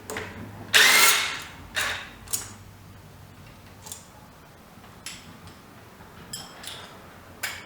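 A T-bolt clamp on a 3000GT Dodge Stealth throttle body is loosened with a short burst of a ratcheting tool up close, followed by a few scattered clicks and taps.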